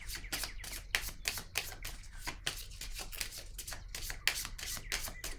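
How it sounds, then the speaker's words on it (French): Tarot cards being handled and laid onto a spread, a fast run of crisp, papery taps and slaps close by, steady and fairly quiet throughout. "Je vais déposer une carte sur elle."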